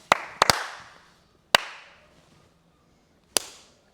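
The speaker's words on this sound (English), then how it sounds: "Clapping for no reason" Sharp hand claps ring out in an echoing room: one, a quick pair, then two more spaced apart, each trailing off in reverb.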